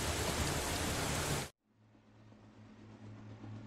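Rain in the video game Steins;Gate 0, a loud hissing downpour that cuts off abruptly partway through, leaving a quieter low hum with faint background noise.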